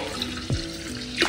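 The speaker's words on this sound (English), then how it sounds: "I'm gonna add it to my vessel of my 2 cups of starter tea" Cooled tea is poured into a kombucha fermentation vessel already holding two cups of starter tea, giving a brief liquid splash and trickle close by with no talking.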